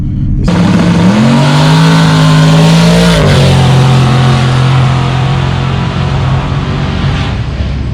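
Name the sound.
Mustang car accelerating in drag race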